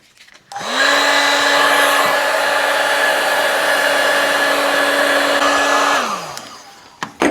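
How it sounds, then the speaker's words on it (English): Heat gun blowing on a vintage Trek 950 bicycle part, a steady loud whirring roar with a high whine that starts abruptly, holds for about five seconds, then winds down, with no voices. "Heat gun."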